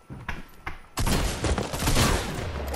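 Video game gunfire: a couple of sharp shots up front, then a dense burst of firing and impacts that stays loud to the end.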